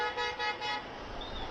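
Car horns toot in short, repeated bursts in heavy city traffic near Lal Darwaja. A rumbling traffic din continues underneath after the honks stop.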